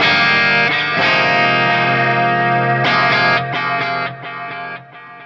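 Line 6 Helix vintage digital delay with its scale set to 99 widens a distorted electric guitar chord into a sustained, shimmering wash; repeated strums and echoing tails fade across the phrase, with no voice present.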